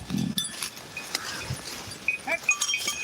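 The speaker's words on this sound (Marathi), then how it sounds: "आम्ही हे हे आमच्या शेळीला हे आमच्या शेळीला खायला घेऊन चाललोय" A goat, being led out by people to be fed, bleats briefly near the start of the clip, while a voice and other high chirps and rustling noises come through afterward.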